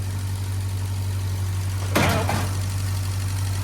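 A 1952 Fordson E83W flathead engine, fitted with electronic ignition, idles smoothly with a steady low hum. A brief louder rattle rises partway through, then the steady running resumes. No one speaks.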